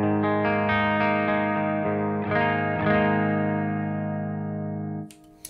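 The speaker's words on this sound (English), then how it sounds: "The reverb that you're hearing is from my Strymon Big Sky" Electric guitar clean tone through a Strymon Big Sky reverb in an amp's effects loop: sustained ringing chords with a long, shimmering reverb wash that slowly decays before a few quiet clicks at the end.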